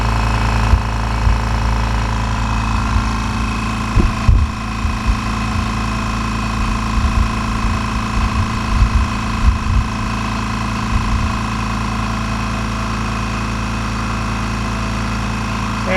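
A Husky 4.5-gallon quiet job-site air compressor runs continuously, a steady loud motor drone and hum with faint rattling vibration, unchanging throughout and with no talking.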